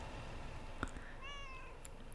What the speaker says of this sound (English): Meow. Calm down, Genevieve.